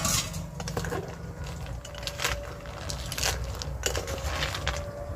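A metal lid lifted off a cooking pot of boiling snails: several sharp metallic clinks and rattles spaced over a low, steady bubbling rumble, close by and with no voices.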